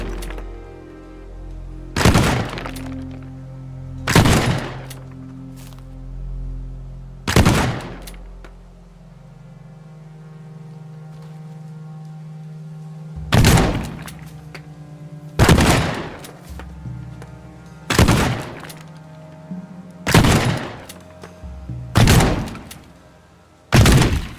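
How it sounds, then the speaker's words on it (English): A shotgun blasting a rock wall in a video game, about ten loud, sharp booming shots spaced a second or two apart, each with a short decaying tail over a low hum. "I don't think I might be able to break the rock wall with the shotgun"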